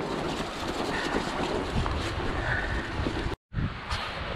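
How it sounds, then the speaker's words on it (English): Wind gusting across a mountain bike trail, a steady rushing roar buffeting the microphone, cut by a brief dropout near the end. "It's windy."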